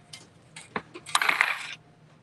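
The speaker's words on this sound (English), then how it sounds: "So I'm gonna use my bolt cutters, open them up, and cut." Bolt cutters snipping through a thin Dollar Tree metal yard stake give a few light metallic clicks, then one crisp snapping cut with a brief rattle, close and fairly quiet.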